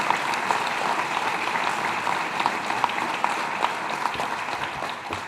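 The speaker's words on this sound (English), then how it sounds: "Let's give the Film Hub a round of applause" An indoor crowd at a governor's announcement of a new manufacturing facility applauds steadily, a dense continuous clapping that holds at an even level for several seconds.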